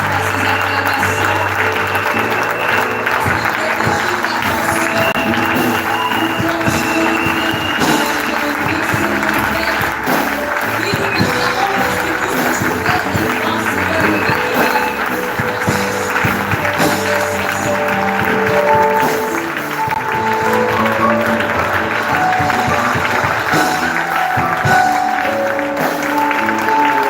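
Sustained applause and acclamation from a church audience at a women's biblical leadership training, a continuous dense clapping texture lasting throughout, mixed with crowd voices and background music.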